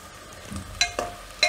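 Spiced masala cooking in oil in a pan for guvar bateta nu shaak, with a soft sizzle under a few sharp scrapes and taps of a spoon against the pan as it is stirred.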